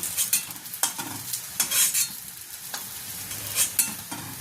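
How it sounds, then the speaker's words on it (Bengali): Fish balls fry in hot oil, a close crackling sizzle broken by repeated spoon-on-pan stirring knocks and scrapes, with no talking. "এইভাবে আমি প্রত্যেকটা ভেজে নিচ্ছি। দেখুন ফিশ বলগুলো ফ্রাই হয়ে গেছে"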